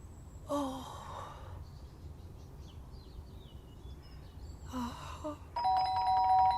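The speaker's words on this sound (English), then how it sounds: "The doorbell went again" Doorbell ringing twice, bright electronic chimes separated by a few seconds, heard indoors against a quiet low background.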